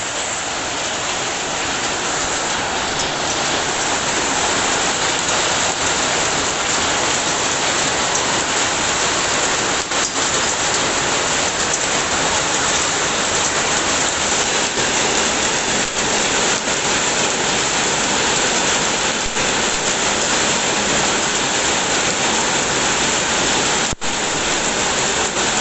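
Heavy rain driven by strong wind, a dense steady hiss of downpour that stays loud and unbroken throughout with no talking.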